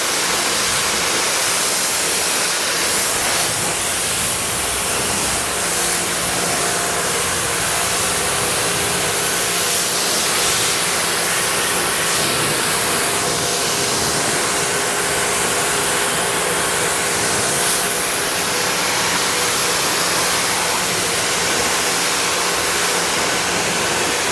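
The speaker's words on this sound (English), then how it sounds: "So now I'll rinse top because I already rinsed the bottom." Water from a hose rinsing the top of a car during a touchless wash, a steady loud hissing spray that runs without a break, with no talking.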